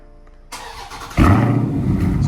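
A Dodge car engine starts by remote start, with a click and brief crank leading into a loud, close, steady idle rumble.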